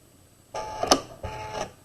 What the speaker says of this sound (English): you're going to sew down the pocket in a straight line, starting at the top